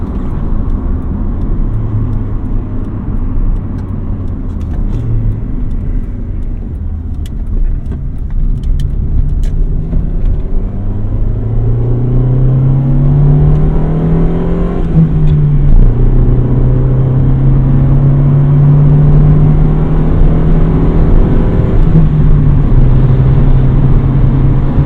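Steady low engine drone and road rumble inside a 1991 Honda Civic Si EF hatchback on a drive, with rising and falling engine pitch through gear changes, continuous and close, no talking.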